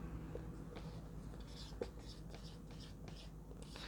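Numbers are written by hand during a profit and loss maths lesson: faint scratchy strokes and taps of pen or chalk, repeated in short bursts, quiet and close with no talking.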